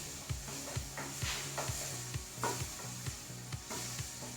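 Ripe nendran banana stirred with tamarind water in a pan, a spoon scraping in a regular rhythm of about two strokes per second over a soft continuous sizzle.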